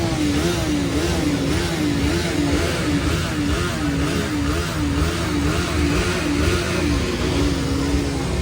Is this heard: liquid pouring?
no